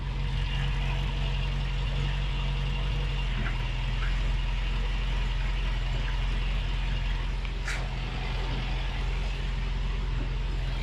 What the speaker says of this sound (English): we're just going to let that sit there with the rear wheels spinning a little bit